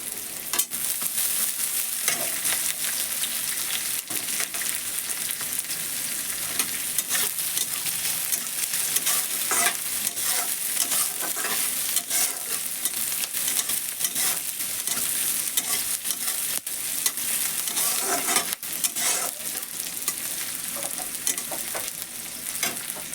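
Chopped onion fries loudly in a pan with garlic, a dense continuous sizzle that runs throughout. Frequent scraping and clinking come from stirring, close to the mic.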